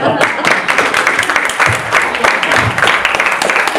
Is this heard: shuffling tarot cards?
no